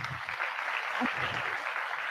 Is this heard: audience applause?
yes